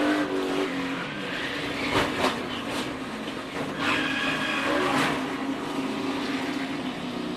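A NASCAR race car spins out at Daytona in 2015, heard as loud roaring engines passing with sharp bursts of skidding and tire noise amid continuous track roar, no talk.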